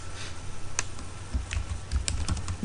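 Keys tapped on a computer keyboard in a quiet room, a scattered run of light clicks and a few firmer taps over faint low hum, with no talking.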